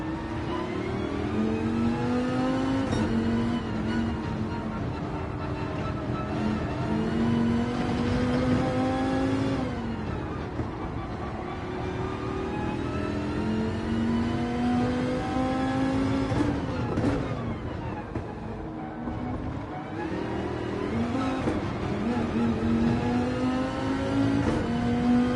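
A car engine in Gran Turismo 7 revs hard and continuously, climbing through gears with repeated rising pitch sweeps and brief drops at shifts, loud and close, with no talking over it.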